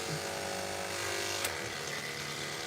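Electric pet clippers fitted with a Wahl 7F competition series blade groom a Ragdoll cat, giving a continuous close buzzing drone with a brief louder touch midway and no voices.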